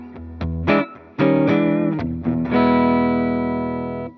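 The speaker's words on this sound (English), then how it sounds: "here is my clean tone." An LTD EC1000 electric guitar played clean through a Vox AC15 amp: a few plucked notes and chords ring out close, with the last chord left to sustain and slowly fade.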